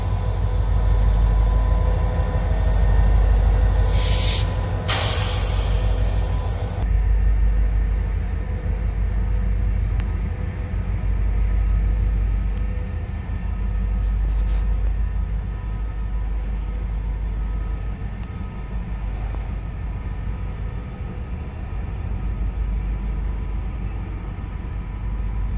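Freight train led by a double-header of CSXT SD40-2 locomotives, 8065 and 8141, hauling covered hoppers in Hamilton, Ohio: a steady, loud low diesel rumble and rolling drone throughout, with brief hissing bursts near the start.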